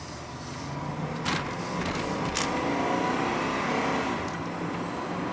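A GMC Chevy 1500 K1500 4x4 extra cab truck engine idles with a steady, low rumble nearby, with a couple of brief clicks and no talking.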